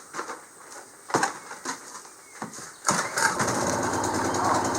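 A new Generac portable generator is pull-started with a choke, giving several sharp recoil pulls before the engine catches and runs on at a steady close rumble.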